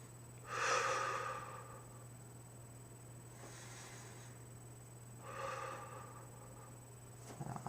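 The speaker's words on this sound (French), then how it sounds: "Faites 3 respirations comme ça." Slow, deep breathing for a breathing exercise: three soft, drawn-out breaths, about one every two seconds, close and quiet over a faint steady hum.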